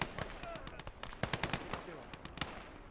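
Rapid bursts of PPSh submachine gun fire in the World War II game Gates of Hell: Ostfront, sharp repeated cracks clustered in short volleys with a voice talking over the shooting.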